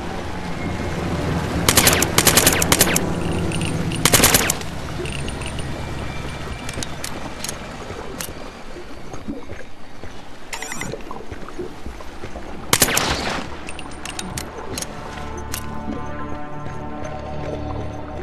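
Automatic gunfire in Killzone 3, with several loud bursts of rapid shots, two early, one short one mid-way and a sharp burst later, over a steady background of game ambience.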